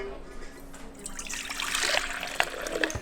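Warm water trickles and splashes into a bowl for sprouted wheat bread dough, a soft liquid pour that builds in the middle and ends with a few small splashes.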